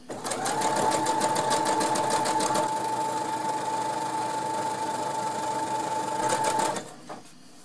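Sewing machine stitching a seam with overcast along a fabric edge for a reversible fabric basket, a loud close rapid whir with quick rhythmic needle pulses and a steady hum that stops near the end.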